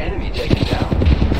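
Automatic gunfire in the video game Apex Legends, rapid shots crackling amid busy battle noise for a second and a half, with in-game voice chatter mixed in.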